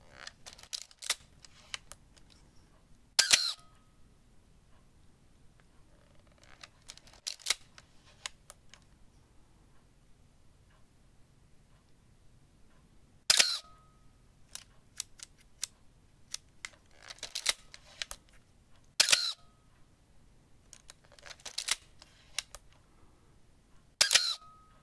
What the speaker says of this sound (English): let's see if we can hear a difference in the shutter speed behavior.